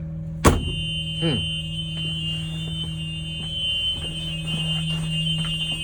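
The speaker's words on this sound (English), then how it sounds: "And the light and buzzer are both activated." On a Thomas school bus, the emergency exit buzzer drones as a steady tone throughout, with a sharp thunk from the exit near the start and lighter clicks scattered behind the alarm.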